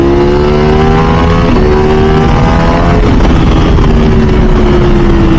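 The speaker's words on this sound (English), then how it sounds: "That sound, that exhaust that it makes with the race exhaust, the race ECU" A Ducati V4 SP2 916 motorcycle fitted with a race exhaust and race ECU runs loud and close, its deep engine note rising and dipping in steady revs.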